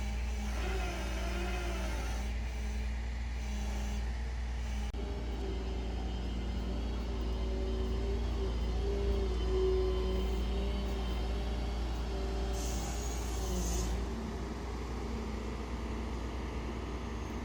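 A Ford F350 Super Duty with a 7.3L engine is hauled off by a tow truck, a steady mid-pitched engine drone and rumble holding close and continuous, with a brief rising rev near the start.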